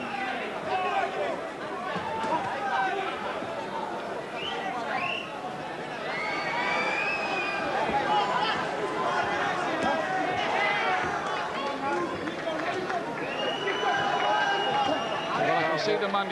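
An arena crowd at a Prince Naseem Hamed versus Manuel Calvo boxing bout keeps up steady booing and restless chatter, with a commentator talking over the noise throughout.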